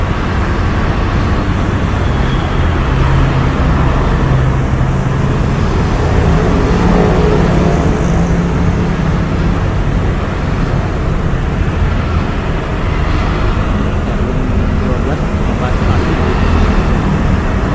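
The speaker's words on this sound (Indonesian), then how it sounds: "Coba dengar suara gemuruh kendaraan roda 2 dan roda 4" Steady, loud rumble of motorcycles and cars crossing a bridge, a continuous dense roar with wind buffeting the microphone throughout.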